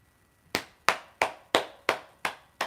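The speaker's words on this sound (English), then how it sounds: "Hey, I gotta clap." Hand clapping: seven sharp, evenly spaced claps about a third of a second apart, close and distinct, each ringing briefly before the next.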